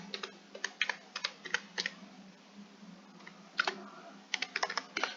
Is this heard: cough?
no